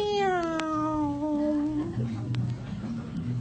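A voice imitates a cat with a long, drawn-out meow that slides downward, followed by low speech.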